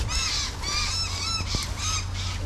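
Crows cawing loudly and close by, several harsh, rasping calls in quick succession with only short gaps between them and no voices.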